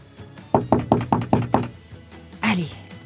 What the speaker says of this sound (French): respira un grand coup et toqua à la porte